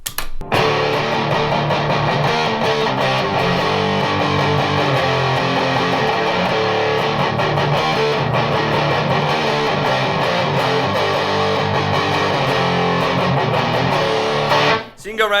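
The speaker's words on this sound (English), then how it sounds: "so you can go right up to that kick-ass overdriven Marshall tone with nothing in front of it other than just that pedal" Electric guitar played through an overdrive pedal into the clean channel of an amp, giving a thick, distorted Marshall-style tone that rings continuously at close range before cutting off at the end.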